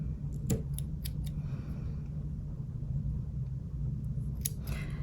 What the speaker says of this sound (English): So I'm gonna go along with my scissors and only cut my colored weaving